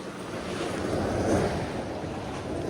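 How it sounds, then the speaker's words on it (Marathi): Sea surf rolls in near the Buffalo and Talu islands, a steady close roar of breaking waves mixed with wind rush that swells briefly midway, with no voices. "इथे लाटा वाढत चालल्या आहेत बघा"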